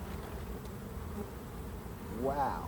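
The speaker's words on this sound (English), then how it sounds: "Hear all those bees pouring out?" Honey bees pour out of a strong hive opened for inspection, a dense, steady buzz filling the air close by, with a person's brief exclamation near the end.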